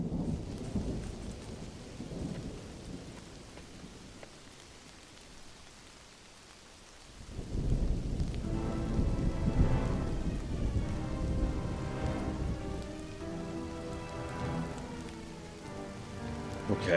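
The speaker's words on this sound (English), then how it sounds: "Okay, so this was during the rainstorm." A rainstorm with thunder in the video game Mind Over Magic sounds as a steady wash of rain, then deep rolling thunder swells in halfway through and rumbles on under the downpour, with no voices.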